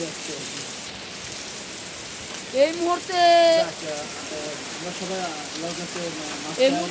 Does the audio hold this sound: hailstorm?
yes